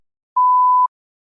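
A single clean electronic beep, one steady tone lasting about half a second, sounds alone against total silence as a cue to start a spoken response.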